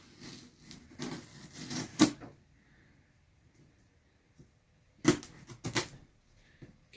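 A knife slices open a cardboard care package in short scraping and tapping bursts, two clusters of quick crisp cuts separated by a quiet pause, close to the mic.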